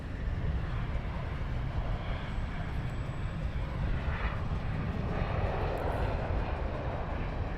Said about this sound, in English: We have a couple of inbound aircraft.